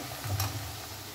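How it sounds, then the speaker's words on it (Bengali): Sliced onions frying into birista in white oil, a close, steady sizzle with a brief stirring scrape in the middle. "আমি সাদা তেলেই ভাজছি বেরেস্তাটা"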